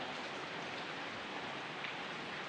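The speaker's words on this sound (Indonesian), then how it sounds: "pada hari ini dalam keadaan hujan" Rain falls steadily during a rainy day, a soft, even hiss of drops on surfaces that stays constant and fairly quiet throughout, with no voices.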